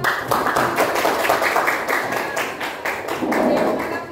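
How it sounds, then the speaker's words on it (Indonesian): A university class applauds in a classroom, a sustained round of rapid, many-handed clapping heard up close, with a faint voice mixed in toward the end. "Tepuk tangan buat."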